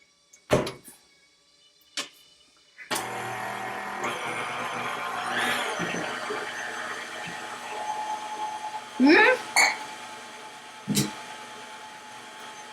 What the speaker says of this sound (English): get this mixed up really well. You have to stop it to scrape down the sides.